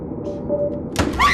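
A basement door opens with a single close thunk followed by a short creak, over a low room rumble.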